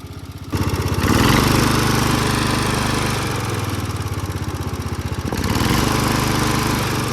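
A Murray lawn mower engine starts and runs close by, a loud, steady, throbbing drone at a fast idle that holds throughout with a slight dip in the middle.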